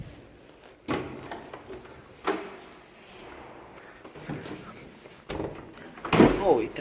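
Sliding doors of a 1960s Del Bo/OMAR traction elevator, upgraded in the 2000s, in an apartment building: several thuds and sliding rumbles spread across the clip, with a louder clunk near the end and people talking throughout.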